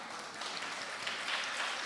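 An audience at a college conference claps in a dense, steady patter of applause that stays even throughout the short moment, with no voices over it.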